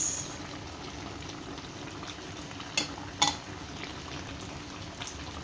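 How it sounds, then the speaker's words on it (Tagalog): Potato, banana and carrots being stirred into a Filipino chicken pochero, giving a steady soft simmering hiss with a few brief scraping clinks from the spoon. "Mix everything together evenly."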